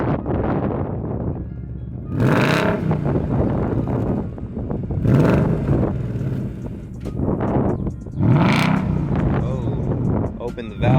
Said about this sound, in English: So the first one was valves closed, that one was valves open.